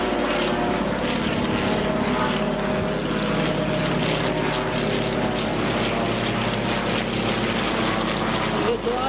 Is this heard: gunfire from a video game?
no